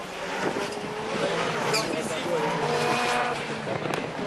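A rallycross car at a French championship round in Dreux accelerates hard through a corner, its engine roaring over a loud mix of tire noise and track ambience while a commentator talks throughout.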